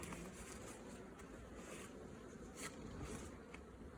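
Honeybees fly around their hives on a warm day in the first month of winter, a faint, steady buzzing hum over soft outdoor background noise, with no voices.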